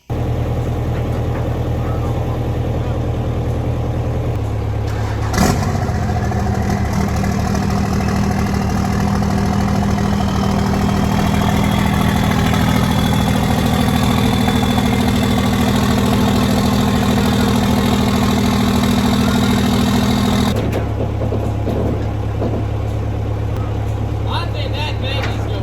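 A backhoe with worn hydraulics idling close by during a flatbed build, a steady low engine drone that rises in load for a long stretch before dropping back, with a sharp clank along the way.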